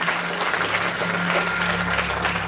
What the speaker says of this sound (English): give her a nice round of applause for working so hard and thinking ahead